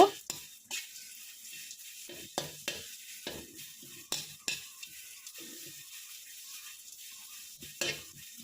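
Spices for homemade sambar powder dry-roasting in a pan, with intermittent sharp scraping stirs and light rattling crackles spaced across the clip over a quiet background, no voices.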